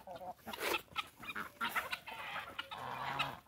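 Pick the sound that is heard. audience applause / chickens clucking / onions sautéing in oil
chickens clucking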